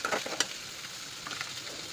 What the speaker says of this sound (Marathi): झाकण लावून परतून घ्या म्हणजे तेल सुटायला मदत होईल।